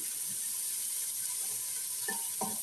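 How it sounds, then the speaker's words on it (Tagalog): Chopped onions sizzle softly and steadily in a hot pan, a faint continuous frying hiss with a couple of brief utensil scrapes near the end and no talking. "Pababrown lang din natin ang konti ang sibuyas."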